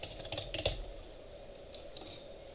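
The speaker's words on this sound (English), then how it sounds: "But what if I type garbage in?" A computer keyboard is typed on in a short, uneven burst of close, light key clicks, with a couple of isolated taps after a pause and no talking.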